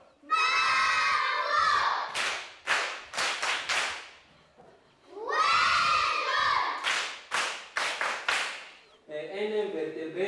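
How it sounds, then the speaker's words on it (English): A classroom of children claps and cheers in two loud bursts of shouting followed by sharp, rhythmic clapping, with a brief voice near the end. "On applaudit fort."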